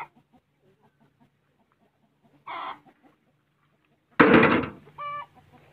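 Chickens on a farm make a couple of short clucking bursts, the second louder and closer, followed by a brief higher squawk, with quiet background between.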